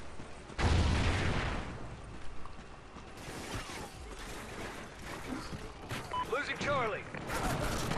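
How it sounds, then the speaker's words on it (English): Multiplayer match of Call of Duty Ghosts with gunfire bursts and mechanical clatter mixed under busy game sound effects, including a loud onset near the start; a player talks over it. "that was gunshots"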